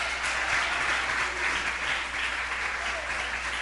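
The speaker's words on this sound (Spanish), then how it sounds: "Aplauso a la Biblia, a la palabra de Dios." Church congregation applauding in praise of the Bible, a dense, steady wash of clapping from many hands that fills the room evenly throughout.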